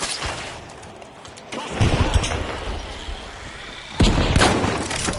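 A frag grenade explosion in the video game The Finals: two loud, close broadband blasts about two seconds apart, each with a rumbling tail, over a steady background of in-game ambience.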